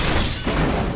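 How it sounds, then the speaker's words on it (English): Glass shatters in the video game Beyond: Two Souls, a loud, dense crash of breaking panes that fills the whole brief moment. "Including breaking more glass."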